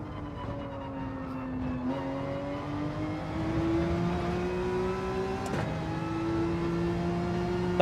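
Engine of a McLaren race car in Gran Turismo 7, a steady high-pitched drone that climbs gradually through the gears, with a brief shift blip partway, continuous and fairly loud with no talk.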